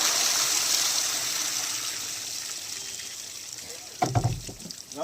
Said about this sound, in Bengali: তলা থেকে জল বেরোচ্ছে